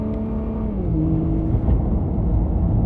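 A convoy of supercars cruising through Tokyo, including an Audi R8, Mercedes SLR, Lamborghini, Nissan GT-R Nismo, Ferrari and McLaren, their engines droning loud and close with a rising rev as one accelerates, a continuous deep rumble throughout.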